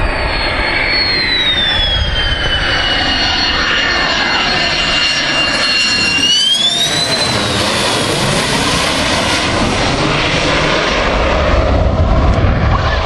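A Thunderbirds jet roars loud and close during landing, its rising and falling whine sweeping past over a broad, continuous rumble of engine noise.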